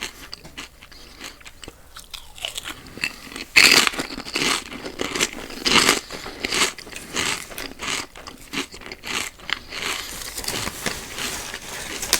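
Loud, close crunching of thick kettle potato chips being bitten and chewed, a steady series of crisp cracks with no talking.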